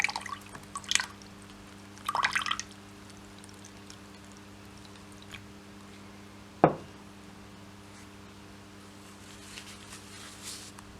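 Water dripping and trickling onto crumpled waterproof PUL polyurethane laminate fabric, a few short pours and one sharp drop standing out against a quiet room hum.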